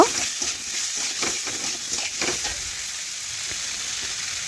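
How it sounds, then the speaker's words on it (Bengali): Spices, green banana and soybean chunks stir-fried in a pan: a steady close sizzle with repeated scraping and stirring strokes through the first seconds, then a calmer even fry; no voices. "সমস্ত কিছু একসাথে নাড়াচাড়া করে একটু কষে রান্না করে নিচ্ছি।"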